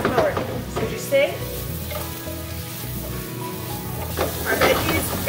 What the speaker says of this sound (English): While your veggies are sauteing